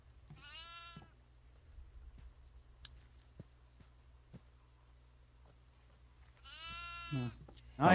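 Two short goat bleats in the video game Devour, one at the start and one near the end, with faint clicks and low hum between them.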